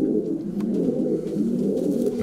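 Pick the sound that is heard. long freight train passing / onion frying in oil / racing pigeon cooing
racing pigeon cooing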